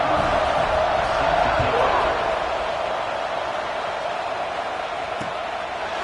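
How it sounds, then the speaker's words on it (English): A college football stadium crowd at Ole Miss vs USC keeps up a steady, loud roar in the final period after a score, a dense wash of many voices with no breaks. "this crowd is buzzing after that last score"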